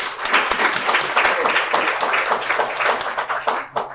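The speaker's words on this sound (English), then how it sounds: "So let's give them all a great round of applause." Crowd at a Rotary Club Student of the Month program claps for sponsors, a lively roomful of hands with distinct individual claps audible, tapering slightly near the end.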